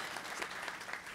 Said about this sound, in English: Well, they get a round of applause.